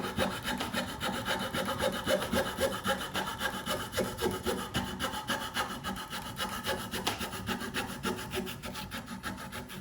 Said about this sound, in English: just know I'm not sawing that fast